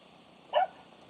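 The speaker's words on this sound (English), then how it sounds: "Puppy's going crazy in the background with the birds" A puppy lets out a single short bark at teasing birds, fairly close but brief, against a faint steady background hum.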